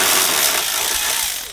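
A power tool whirs continuously while removing the 13mm exhaust muffler nuts on a BMW G30 with a B58 engine, a loud, close, noisy grinding that tapers off at the end.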